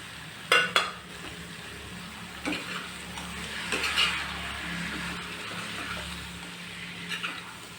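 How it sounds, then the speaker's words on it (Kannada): Chopped eggs dropped into a hot pan for a village-style egg palya, a couple of clinks and scrapes over a soft steady frying sizzle, no talking. "ಈಗ ಮೊಟ್ಟೆ ಹಾಕ್ತಾಯಿದ್ದೀನಿ, ಕಟ್ ಮಾಡ್ಕೊಂಡಿರೋದು."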